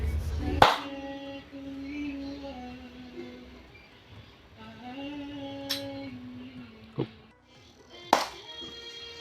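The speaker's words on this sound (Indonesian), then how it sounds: "pengetesan rangkaian pintu otomatis dengan tepukan tangan" Several sharp, isolated hand claps spaced a few seconds apart, close and loud, testing a sound-sensor automatic door lock, each followed by a faint humming tone in a quiet room.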